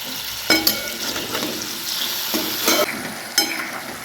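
Potato pieces frying in plenty of oil with salt in a pan, stirred and turned with a spatula: a constant sizzle broken by several sharp scraping, clattering strokes, close and with no talking.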